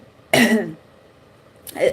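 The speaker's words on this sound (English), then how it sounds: "Some of them want to speak, that's why I'm coughing." A person coughs or clears their throat during a spiritual reading, one close, raspy burst followed by a pause and a second short rough burst, loud against a quiet background.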